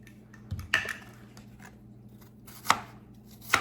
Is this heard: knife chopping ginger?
yes